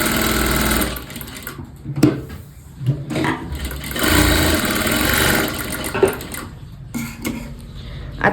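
An electric sewing machine stitches around a Katori blouse sleeve in several close, whirring runs of rapid needle hum, with brief pauses and fabric handling between bursts.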